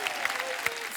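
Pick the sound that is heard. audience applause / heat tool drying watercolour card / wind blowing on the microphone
audience applause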